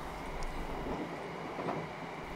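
A train runs on rails with a steady rumbling roll and faint rhythmic clatter, heard from close by with no voices.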